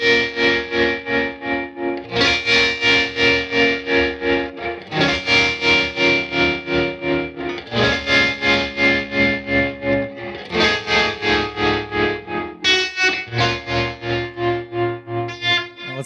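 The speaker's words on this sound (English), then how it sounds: "Let's hear that tremolo at noon with the reverb cranked." An electric guitar plays through a Bad Cat Black Cat combo amplifier with tremolo set at noon and reverb turned all the way up. Sustained chords pulse in a steady, even throb, changing every couple of seconds, loud and continuous throughout.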